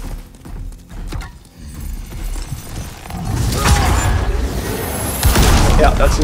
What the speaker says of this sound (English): seems like an explosion attack